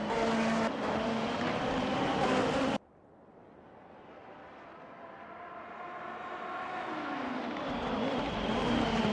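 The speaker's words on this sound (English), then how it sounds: "The sound of these V6 engines roar through Sportsland SUGO here in the SUGO Super Prix race" V6 race car engines roar at Sportsland SUGO during a Super Prix race: a loud, dense engine blare cuts off abruptly, then a car's engine swells gradually from far to near, rising in pitch and loudness.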